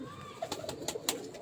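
A golden pigeon cooing close by in a short burst of several soft, rolling coos over a quiet backdrop.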